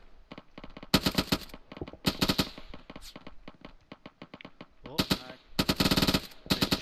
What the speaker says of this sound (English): There's definitely someone up there with a PKM.